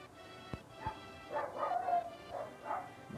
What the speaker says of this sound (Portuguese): Ai, cachorrada.